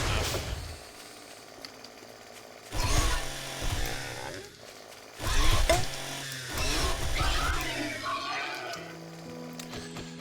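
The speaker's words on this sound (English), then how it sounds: "Chainsaw's not as effective against a wild boar as you would think it would be." A chainsaw in the survival video game 7 Days to Die, used against a wild boar, revs in loud rough bursts that start and stop several times, with a steady mechanical drone between them.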